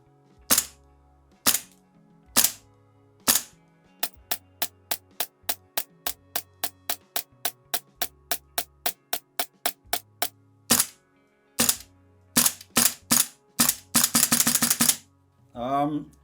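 G&G MGCR 556 gas blowback airsoft rifle with a silver inner valve firing, sharp snappy shots close up, first singly, then a long even run of rapid single shots, ending in quick full-auto bursts.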